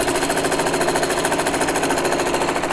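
A sewing machine quilts wavy lines on oven mitt fabric, its needle clattering in a rapid, even, close rhythm that runs on steadily without any voices.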